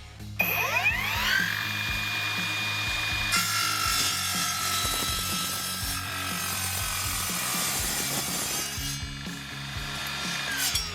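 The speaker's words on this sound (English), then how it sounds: "Let's make a miter cut in this aluminum." An Evolution 40V cordless miter saw spins up and cuts through aluminum, a loud close whine with a rising motor pitch and a sustained harsh cutting tone for several seconds before winding down.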